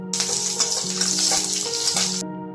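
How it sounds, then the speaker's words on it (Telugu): Cumin seeds and chopped green chilies frying in hot oil in a pan: a steady, close, bright sizzle that runs unbroken and then cuts off abruptly. "ఆయిల్ వేడయ్యాక 1 టీ స్పూన్ జీలకర్ర, సన్నగా కట్ చేసుకుని 2 పచ్చిమిర్చి ముక్కలను వేసి ఫ్రై చేయాలి"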